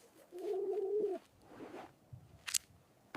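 Small ptarmigan gives a low, drawn-out cooing call, then a softer follow-up and a brief sharp higher note, close and alone.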